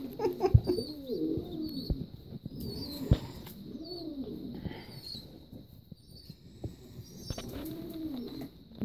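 Pigeons coo softly nearby in a loft, repeated low rolling calls in a loose rhythm, with faint twittering birds and occasional small knocks in the background.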